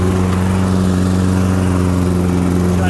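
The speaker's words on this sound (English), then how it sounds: "we're going to go ahead and get cutting. This is like my test cutting area. Just gonna mow a few stripes over here." A Toro all-wheel-drive lawn mower, model 20353, runs steadily while cutting grass, its engine giving a loud, continuous droning hum with no pauses or talk.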